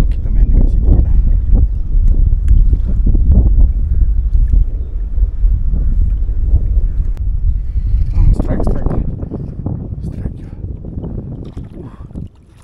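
Strong wind roars over a fishing boat at sea in Riviera Bay, a loud, constant rumble of gusts buffeting the microphone, with water noise and people talking underneath.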